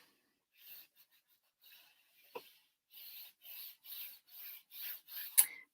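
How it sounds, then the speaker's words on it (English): Folded paper hinge of a handmade recipe album being burnished, a series of soft, dry rubbing strokes in a steady rhythm that grows more regular toward the end, close and fairly quiet with no voices. "Burnish it."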